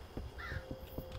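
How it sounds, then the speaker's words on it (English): Crows cawing in the horror video game Sign of Silence, several short harsh calls repeating over a low steady ambient rumble, moderately close and alone without talk. "Why are there gotta be so much crows?"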